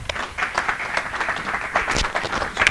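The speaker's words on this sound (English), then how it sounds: "Give a big hand of applause for Andre." Conference audience applauding a speaker after a reactive programming talk, a loose patter of hand claps of moderate loudness with uneven rhythm over a short stretch.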